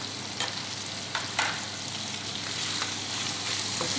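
Vegetables fry in a pan with a steady, close sizzle, broken by a few sharper spits and stirring scrapes, and no talking.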